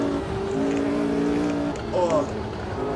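A 1969 race car in the sim racing game Automobilista 2, engine note climbing under throttle, dipping briefly at a gear change and then rising again, moderately loud and steady.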